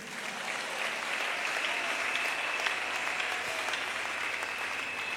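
A church congregation claps steadily, a dense and even applause that carries on without pause from start to finish, heard at a moderate distance with no clear voices.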